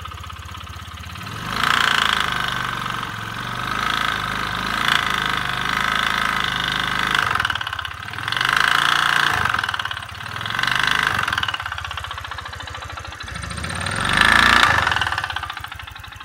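Honda Click 125 scooter with a noisy engine fault from lack of oil, running with a rough mechanical clatter and repeated throttle blips that rise and fall every couple of seconds, close and moderately loud.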